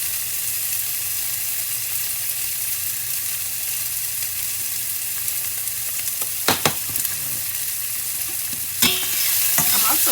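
Kale greens fry and char in a hot pan, a steady close sizzle running throughout, broken by a few sharp clatters of stirring near the end.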